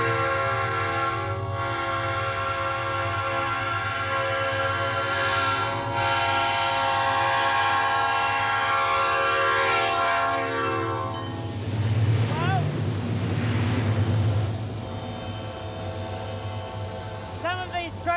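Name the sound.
train with horn passing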